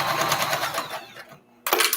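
A sewing machine stitches fabric for a boxy bag in a steady, fast mechanical whir that slows and stops briefly, then starts again, close by, with no talk.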